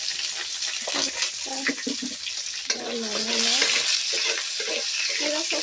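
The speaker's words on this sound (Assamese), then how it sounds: "এতিয়া মই তেজপাত দিম আগতে, পুৰা তেল গৰম হৈছে" Bay leaves hit hot oil in a pan, giving a steady, close sizzle and crackle while someone talks over the cooking.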